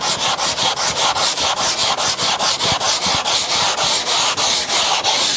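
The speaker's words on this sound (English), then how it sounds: "not to sand just in little strokes like this. You really want to do a little bit of narrow, then go wider." Sandpaper is worked by hand back and forth over a wooden table top to take it down to raw wood. The strokes are close and loud, scratchy and evenly rhythmic, about four a second, with no voices.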